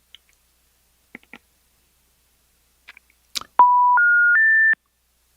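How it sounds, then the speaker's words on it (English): Touch-tone telephone dialing follows a few faint clicks: three clear, loud tones step upward one after another, each held briefly, close and alone. "you have to dial an area code"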